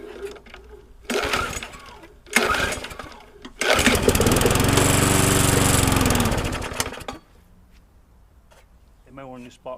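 A trash-picked walk-behind lawnmower engine sputters in short bursts, then catches and roars loudly for a few seconds before dying back down; a voice speaks briefly at the end.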